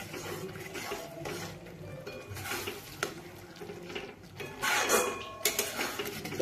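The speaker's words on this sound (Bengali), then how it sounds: "মিডিয়াম হিটে আমি বেশ ভালোভাবে মশলাটিকে এইভাবে কষিয়ে নিচ্ছি" Masala for a fish roe curry being stirred and sautéed in a pan over medium heat: a soft sizzle under frequent scraping and clinking of a spoon against the pan, close by, with no talking.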